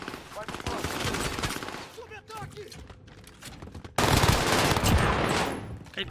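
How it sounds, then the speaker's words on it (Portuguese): Gunfire in the Call of Duty Warzone video game, rapid automatic bursts rattling loudly, with a louder dense volley near the end, mixed with speech. "aquele barulho de tiro aqui"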